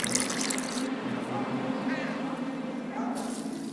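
Water poured during alchemy in The Witcher 2, a continuous close splashing stream running the whole time with a voice murmuring underneath.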